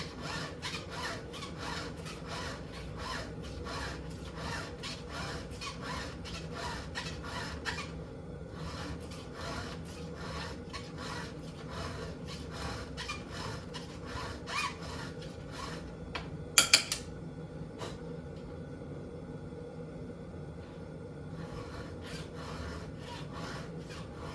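A STIHL HEXA file sharpens a chainsaw chain in rapid, even rasping strokes, close and continuous, pausing briefly partway through before a few metallic clinks and more filing.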